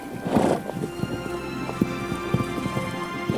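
Hooves of a horse clop in an uneven rhythm of sharp, distinct knocks, close and moderately loud, with a brief breathy snort near the start and no talking.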